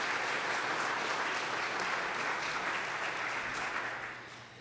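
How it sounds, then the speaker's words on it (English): An audience at the Wolfeboro Water Summit breaks into dense, steady applause, a sustained wash of many hands clapping that carries on evenly before fading slightly at the end. "So I just want to give him a round of applause."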